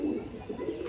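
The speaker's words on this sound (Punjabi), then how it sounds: "ਆ ਮੇਰੇ ਘਰ ਦਾ ਕਬੂਤਰ ਆ" A domestic desi pigeon coos close by, a short soft burst of low throaty warbling that rises and falls twice within under a second, alone against quiet background.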